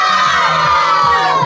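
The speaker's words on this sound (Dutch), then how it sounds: "iemand die wil winnen kan ook heel hard schreeuwen Team Rood." Loud, sustained group shouting from many children at the Toverland amusement park, a dense wall of young voices chanting a team name in unison for the whole stretch.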